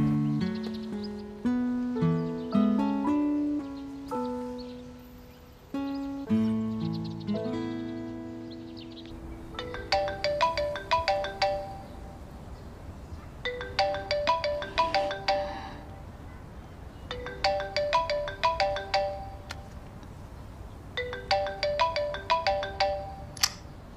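A mobile phone ringtone plays alone, opening with a descending melodic chime phrase and then repeating in bright, rapid bursts of tones separated by short pauses.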